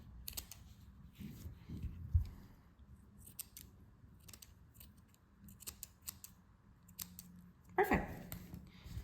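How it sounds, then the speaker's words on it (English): Scissors snip fabric for a crochet bag lining, with a few close, crisp cuts scattered through a quiet room and a louder burst of snipping near the end. "I'm just gonna cut a little bit from this, so make it a little bit straighter."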